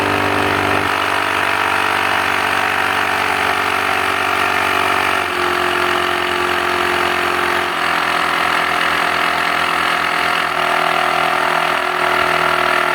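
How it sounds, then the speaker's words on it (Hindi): An AmazonBasics digital tyre inflator pumps air into a bike tyre with a loud, steady motorized drone and buzzing vibration that shifts slightly in pitch over time, running continuously and close. "0 psi से 28 psi तक एयर प्रेशर ले जाने में इस टायर इन्फ्लेटर को एग्जैक्टली 1 मिनट का टाइम लगता है"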